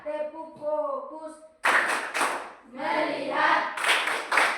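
After a voice calls out, a school class bursts into rapid group clapping for the focus clap, a quick run of close, loud claps, then chanted voices, then a final flurry of claps.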